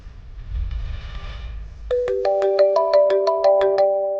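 A phone ringtone plays nearby, a clear repeating melodic pattern of bright tones that starts partway through after a low rumbling background.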